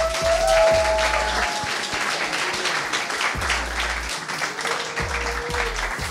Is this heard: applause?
yes